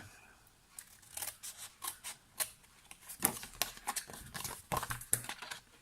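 Scissors cutting through card along the inside of a score line for a small box lid, a run of close, crisp snipping clicks in an irregular rhythm, growing denser toward the end.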